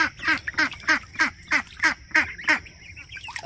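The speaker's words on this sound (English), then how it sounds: "let the baby ducks out into the duck yard" Ducklings quack in a steady run of about nine short, nasal calls, evenly spaced and fairly close, in an outdoor duck yard.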